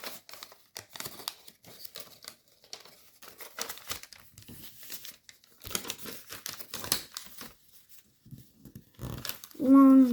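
Paper sheets being creased and folded into an origami fighter jet, giving soft crinkles and crisp taps in irregular bursts under a speaking voice, ending with a brief louder rustle.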